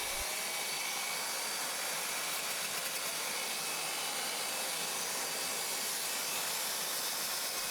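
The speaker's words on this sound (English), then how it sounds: "The sander is very powerful" A powerful belt sander works a foam board kayak seat, shaping its underside into a V; a steady, loud, broad hiss-like whir runs continuously without pause and with no talk.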